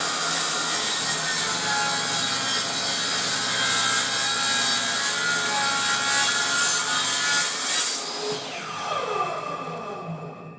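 A table saw blade cuts a groove in a wooden piece for a shaker door, a loud steady buzzing rasp that runs for about eight seconds before the motor spins down with a falling whine.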